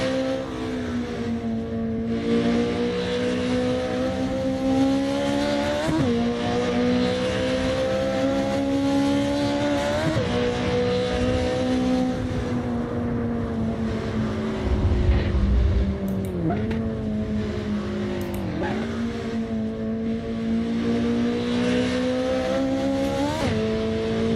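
Race car exhaust on a racing setup in the Assetto Corsa game, a loud continuous engine drone rising through the gears with repeated shift dips and revs, steady throughout with no voices.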